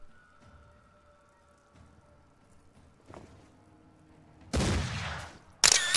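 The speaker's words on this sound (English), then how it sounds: "Let's do the impact shot first." Impact-shot gunfire from the Mordheim: City of the Damned video game: a loud, dense burst of blasts erupts near the end, followed by a second sharp crack, after quiet game ambience.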